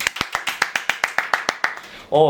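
Steady rhythmic clapping in welcome, about a dozen sharp claps close by, followed right away by a voice starting to speak.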